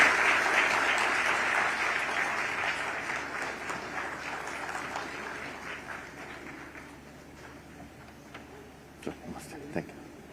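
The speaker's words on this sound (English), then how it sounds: "A louder round of applause." An audience at a wellness event applauds, a sustained round of clapping that gradually fades, with a few scattered claps and murmurs near the end.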